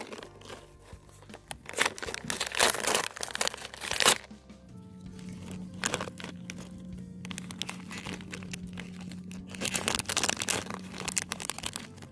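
Plastic toy packaging crinkles and tears as it is pulled open in bursts of crackling, with a steady low hum running underneath in between.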